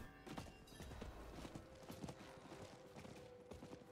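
Rapid clip-clop of a horse's hooves from a galloping mount in the Diablo 4 video game, dense and steady throughout, quiet in the mix with no talking over it.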